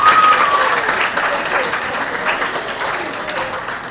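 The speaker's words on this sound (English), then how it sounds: "Just give him and her a round of applause." An audience at a gala children's ball in a city hall breaks into applause, a dense burst of many hands clapping that is loudest at first and then gradually fades, with a faint voice underneath.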